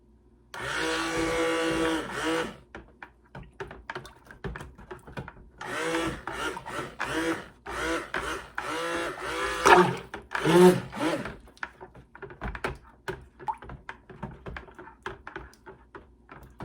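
Stick blender mixing cold process soap batter to light trace for a Christmas cookie soap. Two long bursts of close whirring and churning, separated by quieter scraping and knocking, with no speech.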